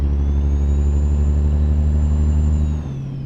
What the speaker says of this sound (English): this is what the engine sounds like inside